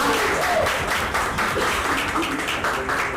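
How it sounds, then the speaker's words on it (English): Audience at a magazine cover launch event clapping, a steady patter of applause from a fairly large crowd, moderately loud and continuous, with a little voice beneath it. "Come on, everybody, you can cheer."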